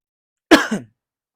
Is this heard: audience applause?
no